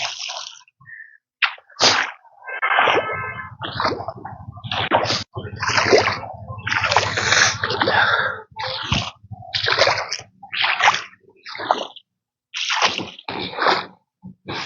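Footsteps slosh and squelch through water and thick mud in a flooded paddy field in Bihar, with irregular splashes and sucking steps throughout and a few short bursts of sound between them.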